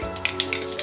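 Asafoetida hits hot oil in a pan with cumin seeds while cluster bean sabzi is being made, giving a close, steady sizzle flecked with small crackling pops, with no one talking.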